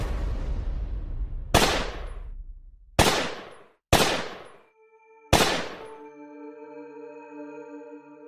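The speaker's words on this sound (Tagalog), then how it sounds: "Nang talunan ng aswang si Rafael, doon kami agad nagpaputok ng baril." Four sharp, loud gunshots, each with a long decaying tail, fired at uneven intervals in a narrated horror story about soldiers and an aswang, the last shot followed by a sustained ringing tone.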